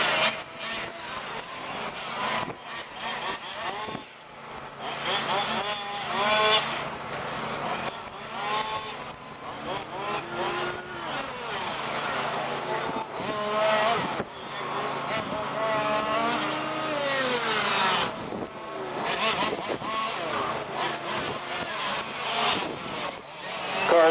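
Fifth-scale race cars battle in a grand prix, a red and black BMW chased by an Alfa Romeo, their small engines buzzing and revving steadily at middle distance beneath continuous race commentary.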